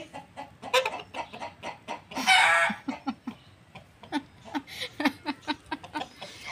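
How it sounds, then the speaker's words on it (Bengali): Chickens cluck in a steady run of short, close calls, with one louder squawking burst in the middle. "আসলে আমাদের মুরগি এখান থেকে নিচে পড়ে গেছে"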